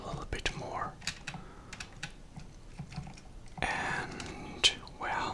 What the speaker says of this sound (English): I hope you'll hear my mechanical keyboard a little bit more